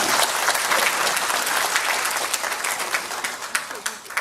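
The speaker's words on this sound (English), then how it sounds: "How about a nice round of applause for Michelle?" A crowd at a veterans hospital volunteer awards ceremony in Detroit gives a round of applause, a loud, dense, continuous patter of many hands that eases slightly toward the end.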